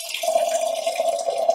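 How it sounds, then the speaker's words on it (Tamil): Water is poured into a dried anchovy curry cooking in a pot, making a steady, close trickling stream that runs without a break. "இன்னும் கொஞ்சம் தண்ணி போறேன்"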